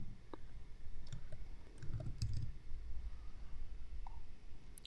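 Soft mouse clicks scattered across a quiet stretch of office software work, faint and sparse, with no one talking.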